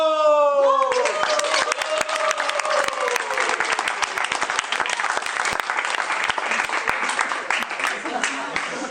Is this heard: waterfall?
no